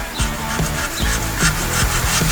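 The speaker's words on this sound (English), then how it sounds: "So I'm going to use that same flat scraper." A flat scraper strokes repeatedly across old cork gasket material on a Dodge Ram 1500 transmission pan, making close, rhythmic rasping scrapes about twice per second.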